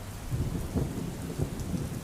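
Heavy monsoon rain pours steadily in Gujarat, with low rumbling thunder rolling beneath the dense hiss of falling water.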